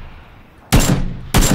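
Two sharp, loud gunfire bursts striking the player in PUBG, each a sudden blast with a short ringing tail, separated by about half a second over a quiet background.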